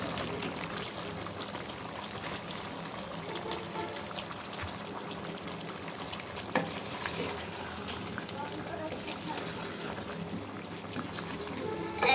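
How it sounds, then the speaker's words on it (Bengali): Potatoes go into a pan of frying chicken kosha, raising a steady broadband sizzle with faint clatter and a small bump near the end, continuous and moderately close. "এখন আমি আলু দিয়ে দিচ্ছি"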